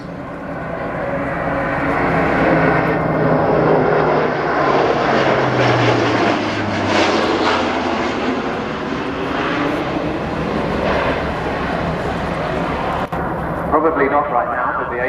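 An Airbus A400M military transport aircraft makes a flypast at an air display, its propeller engines roaring loud and steady as it passes, swelling and then fading. A commentator talks over the engine noise throughout.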